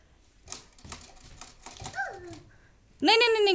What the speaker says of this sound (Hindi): This is typewriter.